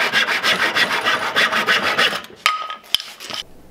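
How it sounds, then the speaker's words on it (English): A handsaw cuts through a wooden post for a homemade live trap, giving close, steady back-and-forth rasping strokes that slow and break into a few scattered knocks and scrapes near the end. "I'll go ahead and cut that out with the handsaw"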